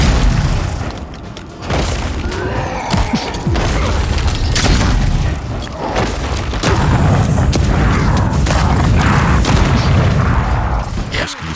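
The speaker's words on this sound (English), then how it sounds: "Just using up all my grenades." Grenades go off in a dense series of booming explosions during a fantasy combat fight in the video game Avowed, close and loud, mixed with clashing battle noise.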